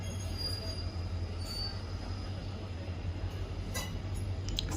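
An ICF-coach special train moves into a station platform, its wheels squealing in thin high-pitched bursts over a steady low rumble of rolling carriages.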